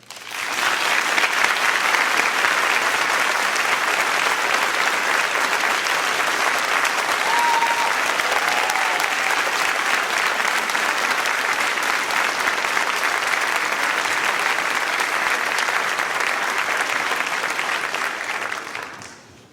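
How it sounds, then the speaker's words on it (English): Sustained, loud applause from a large crowd at a graduation ceremony, steady throughout and fading only at the very end. "I want to dedicate this applause, our final applause, to them"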